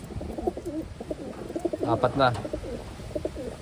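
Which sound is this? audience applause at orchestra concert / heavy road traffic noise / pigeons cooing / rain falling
pigeons cooing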